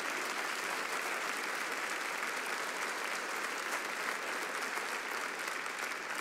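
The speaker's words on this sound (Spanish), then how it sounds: "Denle un aplauso más fuerte a Jesús." A church congregation claps steadily together during a worship service, a dense, sustained wash of applause that fills the whole stretch at an even level without a break.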